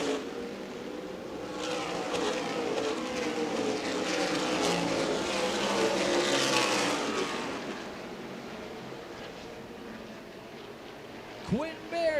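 Stock race cars in an ARCA/CRA Super Series race at Winchester Speedway roar past in a dense, buzzing pack that swells and then recedes, with a commentator talking over the engines.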